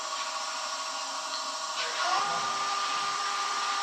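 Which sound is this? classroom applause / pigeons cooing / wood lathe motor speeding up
wood lathe motor speeding up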